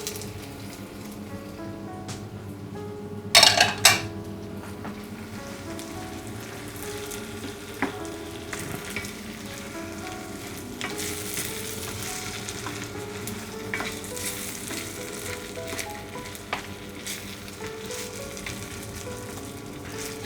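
Lamb on the bone frying in a karahi, a steady bed of sizzling and crackling with occasional scraping stirs and clinks of a utensil against the pan.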